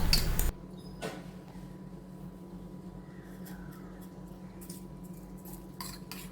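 A spoon stirs a bread snack mixture in a bowl, soft scraping and occasional light metallic clinks over a low background hum, after a brief loud burst at the start.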